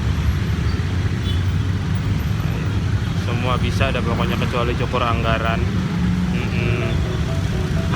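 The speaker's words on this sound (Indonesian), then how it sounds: "Ya, macet banget ini Condet" Jammed road traffic on Condet street gives a steady, dense rumble of engines close by, with a person talking over it partway through.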